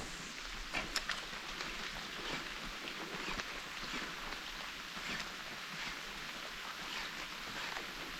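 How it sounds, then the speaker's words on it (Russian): Light, fine autumn rain falls over a marsh during a spinning-rod fishing trip for perch and pike. It makes a soft, steady hiss and patter that stays faint and even throughout, with no voices. "Такой он мелкий-мелкий дождь,"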